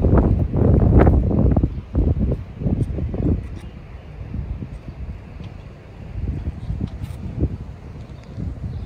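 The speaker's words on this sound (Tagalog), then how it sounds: "Lamig talaga, hangin." Cold wind blowing hard at night, loud buffeting gusts thumping across the microphone in uneven bursts, easing briefly and then swelling again, with no talk over it.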